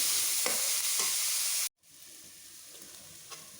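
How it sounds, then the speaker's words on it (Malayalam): Onion, ginger and garlic sauté in a pan for a mushroom masala curry, a loud close sizzle with stirring scrapes that cuts off abruptly, then a quieter frying hiss continues. "സവാള, ഇഞ്ചി, വെളുത്തുള്ളി എല്ലാം വഴലാൻ വെച്ച് ഇത് ബ്രൗൺ നിറമാകുന്നിടം വരെ നമുക്ക് വഴറ്റിയെടുക്കാം"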